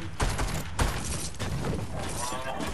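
Brief, dense gunfire from the Fortnite video game rattles loudly in quick repeated cracks, with a faint voice beneath it.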